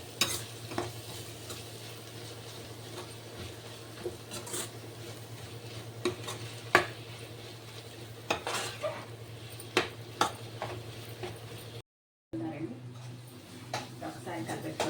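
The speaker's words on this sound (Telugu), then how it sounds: "మొత్తం చక్కగా కలిపెట్టుకోండి." Chicken fried rice with mint and coriander is stirred in a pan, giving a steady sizzle with scraping and clinking of the utensil against the pan, close up and continuous, with one brief gap near the end.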